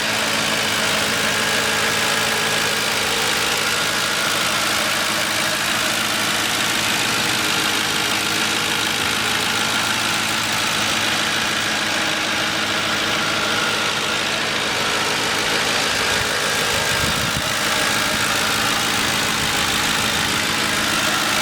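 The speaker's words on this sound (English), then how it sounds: "Let me be quiet so you can hear the engine." A 2008 Ford Crown Victoria P71 police-package sedan in like-new condition idles steadily, its V8 drone loud and close, running evenly and alone for the whole stretch with no voices.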